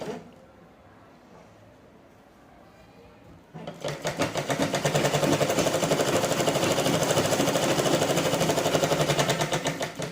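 A sewing machine stitches blouse fabric after a few quiet seconds, its rapid, even needle clatter running loud and steady with a slight pulsing rhythm, close by.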